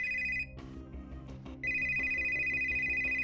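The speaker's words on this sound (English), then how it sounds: "your phone starts to ring" A phone ringtone plays loud and close as a repeating electronic melody, with a steady high chiming tone that holds throughout and briefly dips mid-ring.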